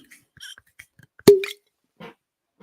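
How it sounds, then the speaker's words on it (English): A cork pops sharply from a bottle of High Run high-rye bourbon whiskey, one loud pop with a brief ringing tone, set among faint quiet handling noises. "that's a nice cork pop"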